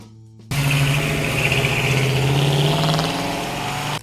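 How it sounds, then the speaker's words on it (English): A 1969 Chevrolet Camaro ZL1 muscle car engine kicks in abruptly and revs loudly, a deep rumbling roar that holds steady and then settles slightly toward the end. "the 1969 Chevrolet Camaro ZL1"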